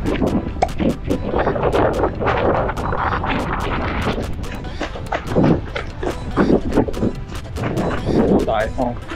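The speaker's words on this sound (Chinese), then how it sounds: "好大风" Strong wind during the Taipei Marathon, run in a 9-degree cold snap, roars and buffets the microphone in a steady rush with sharp gusty thumps, while muffled voices come through beneath it.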